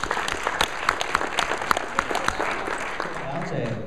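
Audience applause rolls on as a dense patter of many hands clapping at once, fairly steady for several seconds before easing off toward the end.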